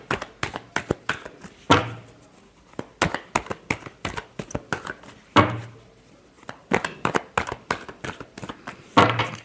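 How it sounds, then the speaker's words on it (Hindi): Tarot cards are shuffled by hand at close range, making a steady run of papery taps and flicks with a few louder slaps as the deck is squared, continuing for several seconds without speech. "last shuffle"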